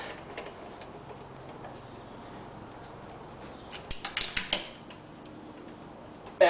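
Ratchet with a 5/8 socket tightening nuts while a Mercruiser Alpha stern drive is installed, heard as quick bursts of close metallic ticking clicks near the end, over faint room noise.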